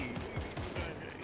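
Gunfire in Fortnite: a quick burst of several sharp shots in close succession, loud and near, one cracking right after another.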